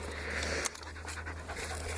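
A dog panting on an outdoor nature walk: quick, breathy, rhythmic huffs up close, steady for two seconds with a faint hum behind.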